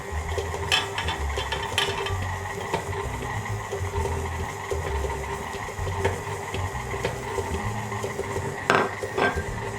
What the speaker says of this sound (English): So I'm gonna start mixing this on your lowest setting, and I'm just adding the butter.